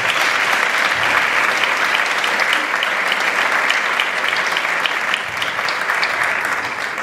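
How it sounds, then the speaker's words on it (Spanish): Loud, sustained applause from a large audience at a sports gala, dense steady clapping that fills the hall and eases slightly toward the end. "aplauso muy fuerte."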